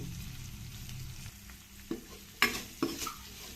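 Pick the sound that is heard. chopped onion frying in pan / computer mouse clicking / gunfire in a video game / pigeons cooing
chopped onion frying in pan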